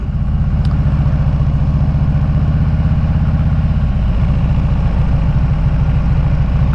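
A tractor engine drones close by, a loud steady low chugging rumble running without pause from start to finish.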